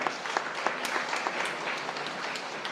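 Steady applause from a college audience at a student debate, a dense even patter of many hands clapping at moderate level with no voices over it.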